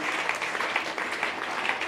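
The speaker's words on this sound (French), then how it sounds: "Applaudissons." A brief burst of congregational applause in a church service, dense rhythmic clapping with a few sharper claps standing out, heard alone without speech.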